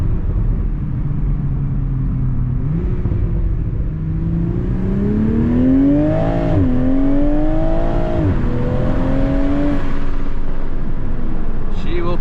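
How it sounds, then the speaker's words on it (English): A 2021 Toyota GR Supra with its stock exhaust drones and rises in pitch as the car accelerates through the gears while driving at night, a loud steady engine note with shifts and revs, heard from inside the cabin. "Roll down the window, have you guys hear this exhaust a little bit."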